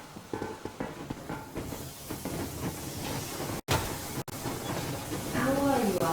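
Train moving in the video game Metro Exodus, a hissing, rumbling rolling noise with rhythmic clacks, under game speech and brief cuts, ending with a rising whistle-like tone.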